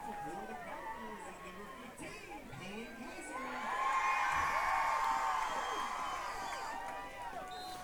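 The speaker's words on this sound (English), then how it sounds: "the crowd is absolutely going nuts here for Mr." A high school football crowd at a playoff game between Plainville and Sacred Heart Salina cheers and shouts from a distance. The cheering swells to a loud roar midway while an announcer talks over it.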